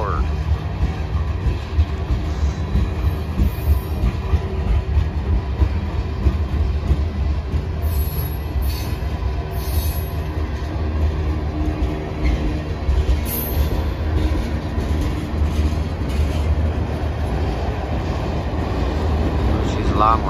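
A long CN freight train rolls westbound through Sarnia, Ontario, with a loud, steady rumble of cars and wheels, occasional high wheel squeals, and a voice speaking briefly over it.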